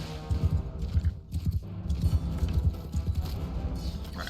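Horse hooves clip-clopping in the Mount & Blade Bannerlord video game, a quick uneven run of close hoof beats on hard ground, steady and moderately loud with no talk over it.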